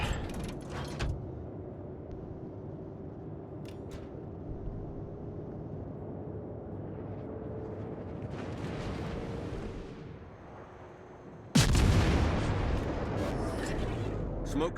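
Warship guns fire in World of Warships, with a few distant booms early on and a heavy close salvo near the end that leaves a loud rumbling tail over a low engine hum.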